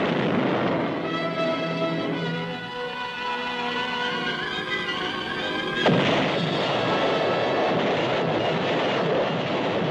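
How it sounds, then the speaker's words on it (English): Heavy preparatory artillery fire from a military film pounds in a dense, continuous roar, loud and close, with a sharp blast near the middle and rumbling barrage carrying on afterward; no voices. "First, heavy preparatory fire to soften up the objective."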